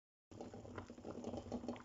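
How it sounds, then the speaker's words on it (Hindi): Eggs boiling in a pot of salted water give a steady, close bubbling and rattling simmer that starts abruptly after a brief silence and continues without talk. "तो अंडे उबल रहे हैं"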